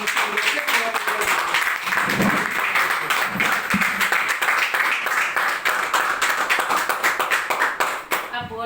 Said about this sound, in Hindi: तो जोरदार ताली के साथ में मैं धन्यवाद करता हूँ